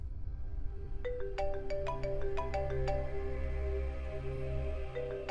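A mobile phone ringtone plays a repeated bright melodic chime for an incoming call, fairly quiet over a low steady background hum.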